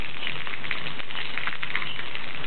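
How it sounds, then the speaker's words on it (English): Water pours and patters back into a pool, a dense continuous spattering like heavy rain on a surface, loud and close with no talking. "Yep, we're putting the water back in."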